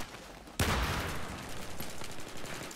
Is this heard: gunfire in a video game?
yes